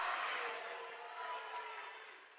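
Volleyball crowd at a Northwestern University–St. Paul home match against Whitworth, cheering and jumping after a kill, a broad sustained roar that slowly eases over a couple of seconds.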